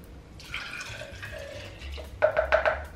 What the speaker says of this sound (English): I'm just going to pour this into here